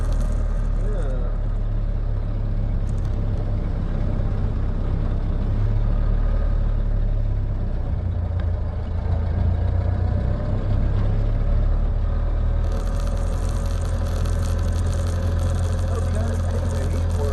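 A 1928 Ford Model A engine idles with a steady low rumble, given a little throttle to loosen up, running continuously and close by.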